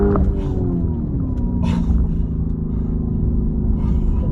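Lamborghini Urus engine revs up after a downshift, a loud steady rumbling drone with rising harmonic tones, close and continuous without any talk.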